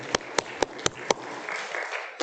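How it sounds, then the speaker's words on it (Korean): In a church, five sharp, evenly spaced claps ring out close by, then fade into softer scattered clapping and low murmur from the congregation after a children's service. "우리 자녀들을 위해서 격려하고 하나님의 영광의 박수"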